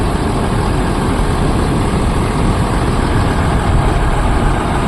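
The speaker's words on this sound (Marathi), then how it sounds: "तर होडी चालू आहे आपली" A prawn-fishing boat's engine runs steadily close by, a loud, even low-pitched drone throughout.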